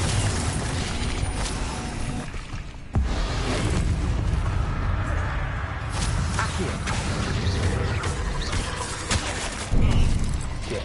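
Spell blasts from Bombarda and Confringo in the Hogwarts Legacy video game: booming, crackling bursts over a dense, continuous wash of game noise, with one sharp cut near the start and a louder hit near the end.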